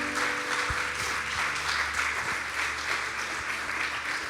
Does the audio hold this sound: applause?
yes